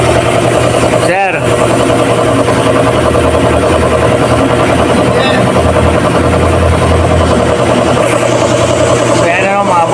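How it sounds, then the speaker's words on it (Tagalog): An air compressor runs close by in a car service bay while a Chevrolet Colorado has its oil drained, a loud, steady mechanical drone that fills the whole stretch, with brief knocks and someone talking over it. "Maingay lang talaga yung ating compressor kasi nandito lang sa gilid natin."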